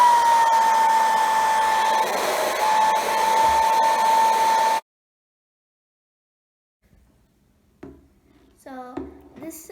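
A hair dryer blows steadily for about five seconds, melting crayon pieces for a stained-glass craft, then cuts off to silence before a voice begins speaking.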